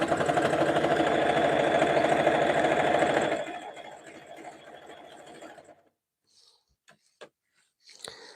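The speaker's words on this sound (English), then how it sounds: "Sometimes the lighter colors stitch quicker in your machine." A sewing machine stitches jelly roll fabric strips for a rug in a fast, steady hum, then slows and stops, leaving a few quiet clicks and taps.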